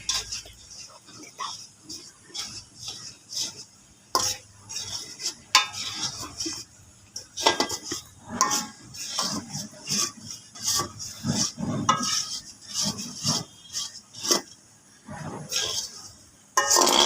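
Noodles stirred in a pan with a utensil, giving repeated scraping clinks and metallic knocks against the cookware in an irregular rhythm, close and fairly clear, with faint background noise between strokes.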